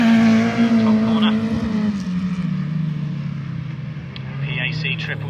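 An autograss race car engine drones steadily as it circles the track, heard from a distance with a fairly low, unstrained pitch that dips slightly, while a commentator talks over it.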